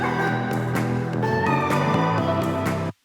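Electronic dance track break with a deep, steady bass line and crisp claps landing in a regular groove, loud and continuous before cutting off abruptly.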